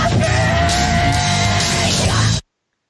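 An angry protester screams in one long, harsh, strained yell lasting over two seconds, loud and raw from a played recording, cutting off abruptly.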